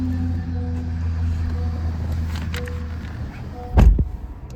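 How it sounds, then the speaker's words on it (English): A 2020 Honda Accord Touring with the 2.0-litre turbo engine cranks and fires up with a short, loud burst near the end, settling into a quieter idle right after, over a steady low background hum. "Let's turn on this car."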